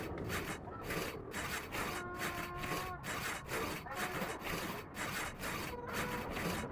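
Two lumberjacks in Brothers: A Tale of Two Sons saw a giant tree, a steady back-and-forth rasping with regular strokes about twice a second, close and loud throughout, with faint game music underneath.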